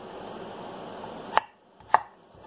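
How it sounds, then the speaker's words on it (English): Two sharp knife chops through a small onion on a cutting board, spaced about half a second apart, each a crisp close thud against a quiet kitchen background. "we're going to chop up. This is just a small onion."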